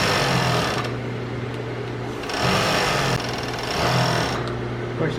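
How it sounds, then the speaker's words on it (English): A serger machine runs continuously while stitching a fabric dining chair cover, its close, steady mechanical whir surging and easing in a few pulses. "One last go around on the serger and it's done."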